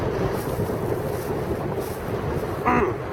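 Strong outdoor wind buffets the microphone beside a stop sign, producing a continuous low rumbling roar with gusty swells and a short brighter flutter near the end.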